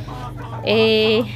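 A single drawn-out chicken call rises over a low steady hum, one clear harmonic squawk lasting about half a second, close by.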